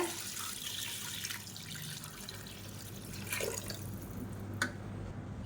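Water is poured into a pot of chicken for a village-style chicken rasam, a steady hissing, splashing flow that runs unbroken and fairly close, with no voices over it.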